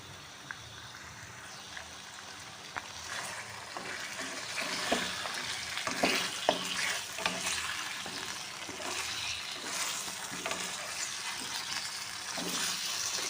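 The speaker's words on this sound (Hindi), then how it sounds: "तो अच्छी तरीके से फ्राई करूँगी पहले" Chicken pieces, including leg pieces cut in two, fry in oil in a karahi, giving a steady, moderately loud hiss with scattered crackles and pops throughout, with no talking.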